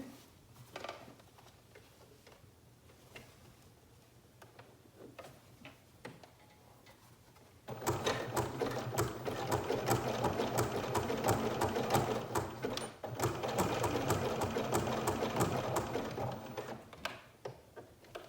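A home sewing machine running a short seam: light ticking taps first, then a dense steady stitching whir for several seconds with a brief pause midway, close and fairly quiet.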